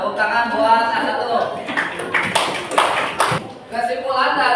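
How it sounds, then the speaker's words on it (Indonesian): Brief scattered clapping from a classroom of students applauding group A1, irregular and mixed with chatter and talking voices throughout. "Ya, tepuk tangan buat A1."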